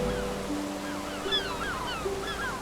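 Fast tidal current rushes beneath a bridge in Norway at one of the world's strongest tidal streams, a steady broad wash of water with faint higher tones over it, no voices.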